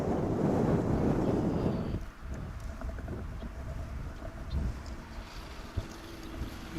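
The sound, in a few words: wind blowing at DFW airport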